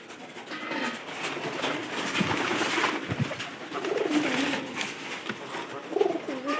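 Pigeons coo in a home loft with a repeated, throaty rolling call close by, layered over a faint low rumble of background noise, with no speech.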